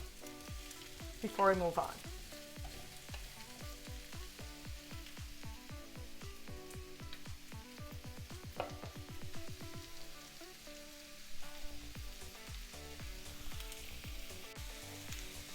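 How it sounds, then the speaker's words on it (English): Butternut squash sautés in a pan for rice, with a steady crackling sizzle throughout, scraping stir bursts, and a voice speaking briefly over it. "let this cook for about 4 to 5 minutes to allow that butternut squash to really saute"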